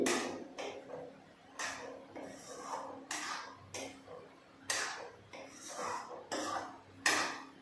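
Mango chutney stirred in a pan at home, a spoon scraping the pan in repeated strokes about once per second, near and fairly quiet, with no talk.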